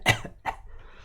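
A single close cough bursts out sharply, followed by a second softer cough, during a baseball card case break, with faint room noise after.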